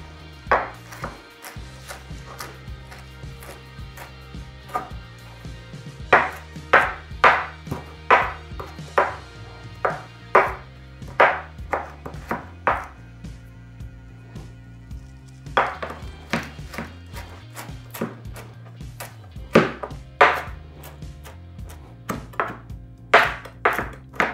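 A pchak knife chops parsley on a board in quick irregular bursts of crisp chops with short pauses between runs, close and distinct over soft background music.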